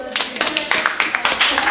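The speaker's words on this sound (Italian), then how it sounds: "Fatevi un applauso." Short burst of clapping from a school group at a student spot recording, a few sharp, uneven claps near the microphone with voices and cheering mixed in.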